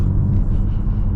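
Steady low rumble of a Genesis G80 being driven slowly, a continuous engine and road drone heard from inside the cabin, with no talk over it.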